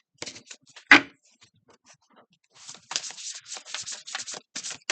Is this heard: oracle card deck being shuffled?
yes